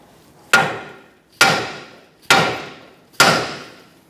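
A hammer strikes a 2014-2019 Kia Soul steering knuckle four times to free the tie rod end, each blow a sharp, loud metallic crack with a short ringing decay, evenly spaced about a second apart.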